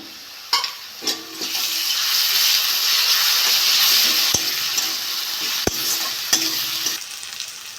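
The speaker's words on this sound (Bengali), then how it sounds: "আদা রসুনটা গন্ধটা চলে গেছে ভেজে নিয়েছি" Ginger-garlic paste frying with onions in oil for an aloo motor ghugni, a loud continuous sizzle close by with stirring scrapes and a few sharp clicks of the spoon against the pan.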